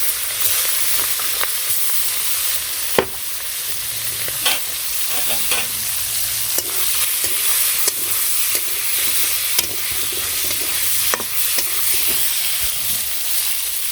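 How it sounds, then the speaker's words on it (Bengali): Fish sizzling in hot oil with cumin and radhuni, a loud steady frying hiss broken by scattered crackles and the scrape of stirring, with no talk. "তেলের মধ্যে দিয়ে দিলাম জিরে রাঁধুনি সম্বার। তারপর মাছগুলো ছেড়ে দিলাম।"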